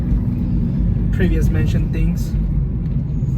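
Steady low rumbling cabin noise inside a moving BMW M3, a dense road and engine drone throughout, with a person talking briefly over it.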